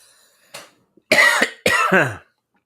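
A man coughs close up, a few harsh bursts in quick succession with brief gaps between them.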